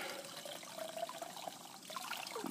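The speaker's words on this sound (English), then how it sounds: "I just fill it with this water here" Water being poured from a container into a jug of urine to dilute it, a soft continuous trickle and splash at low level, heard alone with no talking.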